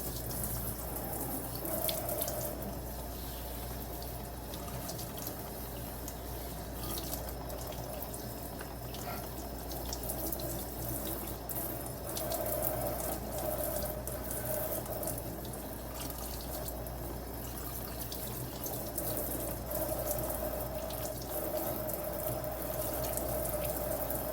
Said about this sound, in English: I'm gonna rinse this out. I'm gonna use cool water.